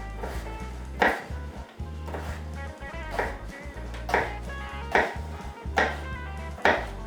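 A knife chops potatoes on a cutting board in a home kitchen, with distinct sharp knocks about once a second, close and clear over a low background hum.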